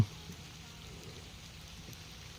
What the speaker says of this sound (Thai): ฝนตกท่านผู้ชม